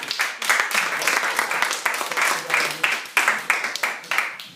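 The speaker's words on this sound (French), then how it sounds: "Applaudissez Cléopâtre." An audience at a stage play set in Rome breaks into sustained applause, many hands clapping in dense repeated waves that swell and fade over several seconds.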